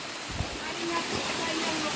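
Water pours steadily from a cold mountain waterfall, a broad rushing hiss heard from nearby with a brief thump, and no clear voices.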